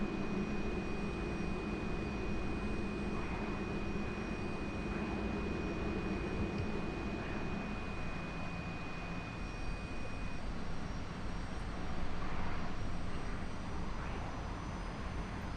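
Jet engine roar of an aircraft diving over an airfield in the DCS flight simulator game, a steady broadband rush holding level throughout without any talk.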